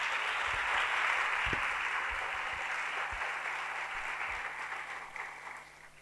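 A church congregation claps for a sister, Reena, steady broad applause of many hands that tapers off gradually, with a few low thumps beneath.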